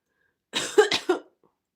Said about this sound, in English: I've got to cough